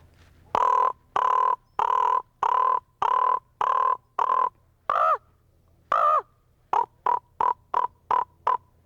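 A human voice imitates a common raven, giving a run of about a dozen hoarse, throaty caws: even, steady calls at first, then a quicker burst of shorter croaks, clear and close with no other sounds.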